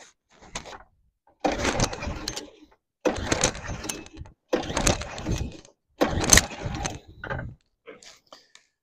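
A go-kart engine, around five horsepower, cranked repeatedly during a compression test, four separate bursts of rapid whirring turnover, close and loud, with short pauses between them.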